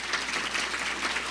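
Applause from an audience at a legislative awards ceremony honoring standing staff, steady dense clapping filling the whole short moment with no voices over it.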